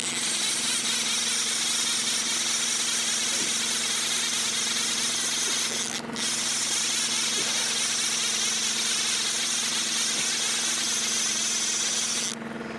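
A fishing boat's engine drones loudly and steadily while trolling in Scotland, a constant mechanical roar with a couple of brief dips.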